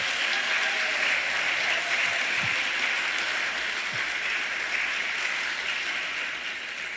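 Dense, steady applause from a gubernatorial debate audience for the candidates, filling the room evenly without breaks for the full seven seconds.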